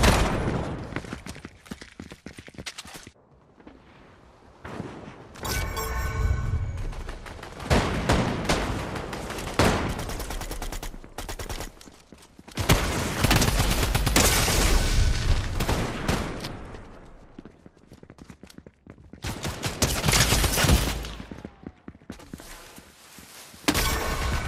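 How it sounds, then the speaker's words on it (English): Shotgun fire in Fortnite on the Call of Duty-style Nuketown map rings out in loud, close bursts of blasts and rapid gunfire, clustered in dense stretches separated by brief quieter gaps, with footsteps and no talking. "How's this guy's shotgun do so much damage?"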